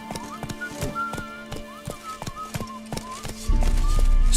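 Horse hooves in the video game The Witcher 3: Wild Hunt, a steady rhythmic clip-clop of a ridden horse at pace alongside whistly tonal game music, with a louder rushing rumble swelling in near the end.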